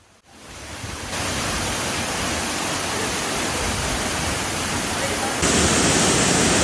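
Annandale waterfall pouring steadily on a spice island, a dense broadband rush of falling water that holds loud and unbroken throughout and swells slightly louder near the end, with no other sounds standing out.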